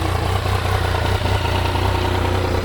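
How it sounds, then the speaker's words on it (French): Yamaha MT-09 motorcycle engine running loud and close, a steady mid-pitched roar with a faint rise as the throttle is blipped, alone without talk. "donne un coup de gaz voir"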